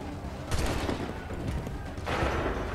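Massed musket volleys from soldiers firing in line in the Assassin's Creed 3 video game, two loud crackling bursts of gunfire about a second and a half apart over a steady rumbling battle background.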